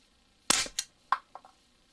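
A suppressed gun fires over a Garmin Xero C1 chronograph with one sharp, loud crack, followed by a few fainter clicks and rattles.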